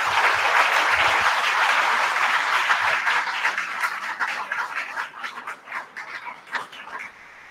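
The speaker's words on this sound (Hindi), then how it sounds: "जोरदार ताली" Lecture-hall audience at a talk on ancient Indian science breaks into loud applause that starts dense and then thins into scattered, fading claps toward the end.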